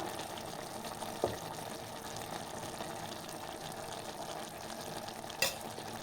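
Steady sizzling of chili powder and peanut curry base sautéing in a hot pan, with a couple of brief scraping clinks from a utensil stirring, fairly quiet and without talk.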